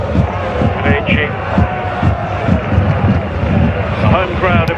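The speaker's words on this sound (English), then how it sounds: "The home crowd appreciating the efforts of the Roma team to once again repel Barcelona." A home crowd of AS Roma fans at a women's football match against Barcelona, a steady rumbling murmur with swells of applause and cheering, carried under continuous commentary.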